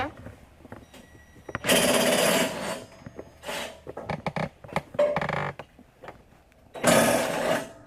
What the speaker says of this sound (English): I need a 5/8" socket, and I'm going to be using this impact driver